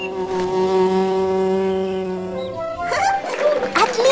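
Cartoon bee buzzing in a loud, sustained drone with a steady pitch, then shifting into a choppier, fluttering buzz near the end; no talking.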